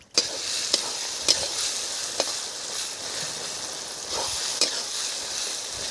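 Garlic paste sizzles in a pan with fried onions, a steady crackling fry broken by several clicking scrapes of a spoon stirring, close and without talk.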